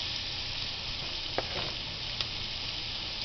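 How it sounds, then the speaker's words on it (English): Steak and onions sizzle steadily in butter in a hot pan, a continuous close hiss with a couple of brief sharp crackles in the middle. "our steak and our onions right into our butter"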